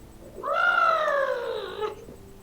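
A house cat gives one drawn-out, clear meow lasting over a second, close and alone in a quiet room.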